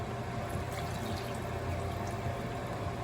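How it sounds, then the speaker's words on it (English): Water poured into a pot of brown rice for vegan Spanish rice, a faint, steady rushing pour with no talking. "Now we're gonna add in our water."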